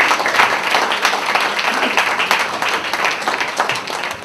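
An audience at a book launch claps in a thick, continuous round of applause, close and fairly loud, with no talking over it.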